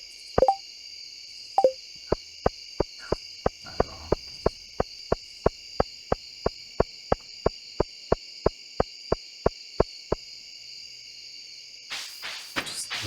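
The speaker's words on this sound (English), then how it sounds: "Just listen to the crickets for a minute." Crickets chirp in a steady, continuous high trill on a summer night, joined by a regular series of sharp clicking taps that stops partway through; no one speaks.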